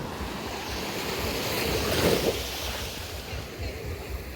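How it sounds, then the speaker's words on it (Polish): Waves wash steadily onto a beach on the island of Kos, a continuous broad surf rush that swells slightly around the middle, with some wind buffeting the microphone and no talking. "Woda podpływa do brzegu."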